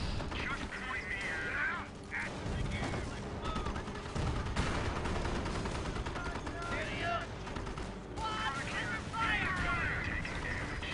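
Gunfire in the World War II strategy game Company of Heroes: repeated bursts of rifle and machine-gun fire with shots crackling over a busy battlefield din, heard without any talk.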